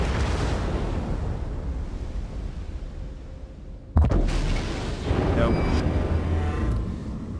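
Warship guns fire in the naval video game World of Warships: after a low rumbling battle ambience, one sharp loud boom breaks in midway and leaves a crackling, roaring tail.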